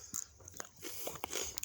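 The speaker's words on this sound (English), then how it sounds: "Crunch on my pea here." A fresh garden pea gets bitten and crunched close up outdoors in a backyard garden, a few crisp snaps and chews over a steady hiss of background noise, with no talking.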